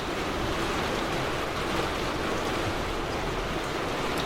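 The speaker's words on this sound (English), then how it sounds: "it's pouring with rain." Heavy pouring rain outside an observatory at night, a dense, steady hiss of downpour that stays loud and unbroken from start to finish.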